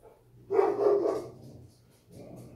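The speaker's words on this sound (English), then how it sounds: "That would be my dogs." A short burst of muffled dog barking from another room, followed by a fainter second bark.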